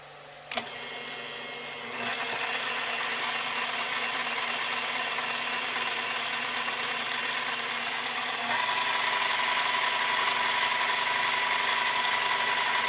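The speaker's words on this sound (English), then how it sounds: "I'll just start machining this down just enough to get that metal that's folded over into points" A metal cog belt wheel for a woodworking bandsaw repair being machined down on an arbor, a steady high grinding hum after a click and spin-up, rising slightly louder partway through, no talking.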